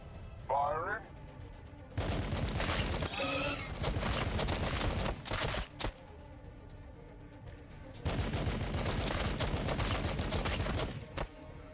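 Dense bursts of gunfire from the Warhammer 40K Battlesector strategy game, sustained volleys around two long stretches, with a brief voice and some shorter shots between them.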